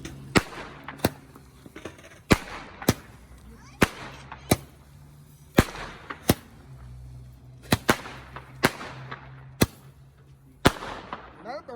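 Fireworks and firecrackers going off on New Year's near a gas station: about fifteen sharp bangs at irregular intervals, several with crackling tails, over a steady low hum and faint background voices.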